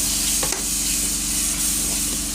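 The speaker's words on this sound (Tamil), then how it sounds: "அதையும் ஆயிலே போட்டு நல்லா வதக்கிடுங்க நல்லா வதங்கட்டும்" Spices and goat head meat sauté loudly in hot oil, a dense continuous sizzle with a couple of scraping stirs near the start. No voices are heard.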